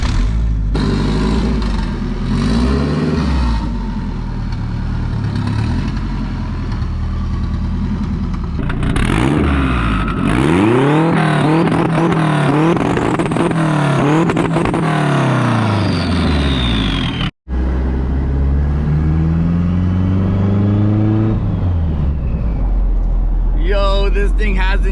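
A Honda hatchback with an open pipe exhaust drives and revs hard, the loud engine note climbing and falling in repeated pulls with a brief cut near the end, with no pause in the steady road and engine noise.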